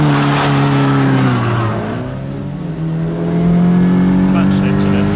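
A powerful older car's engine revs and accelerates along a narrow road, a loud harmonic drone that climbs, dips during a gear change, then rises again, with some background noise but no clear talk.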